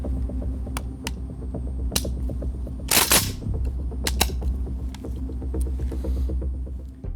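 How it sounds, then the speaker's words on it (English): Gunfire from an AN-94 rifle in hyperburst against a trigger-controlled burst from an AK-74, heard as several sharp cracks and one dense cluster of shots over a steady, droning hum, with no talking. "Hyperburst from the AN-94 versus good old-fashioned trigger finger burst from the AK-74, the rifle that this was supposed to replace"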